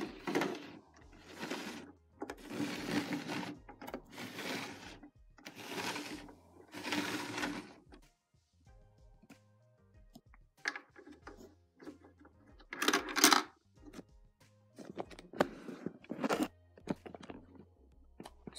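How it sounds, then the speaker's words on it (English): A LEGO candy machine being turned, with a coin dropping inside and a gumball dispensed: a run of rhythmic plastic clicking and ratcheting, then quieter rattles and a sharp clack near the end, close up. "So that just dropped in. It relocks, and we have a gumball."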